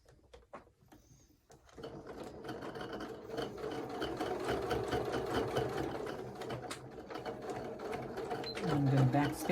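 A sewing machine stitches through a thick fabric ornament, giving a steady, close mechanical whir that runs almost the whole time after a few quiet taps at the start.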